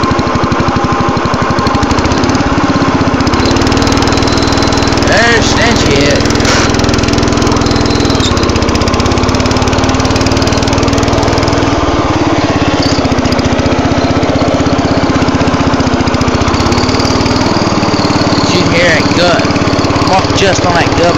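A small engine runs steady and loud right after starting with the choke applied, a constant mower-like drone throughout, while someone talks over it.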